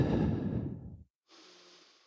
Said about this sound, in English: taking some deep breaths to prepare